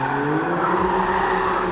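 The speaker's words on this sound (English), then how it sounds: "the exhaust opens up to unleash that beautiful V6 sound" A 2018 Alfa Romeo Stelvio Quadrifoglio V6 exhaust roars loud and close with the valves open, a sustained rising engine note that holds steady across the short stretch.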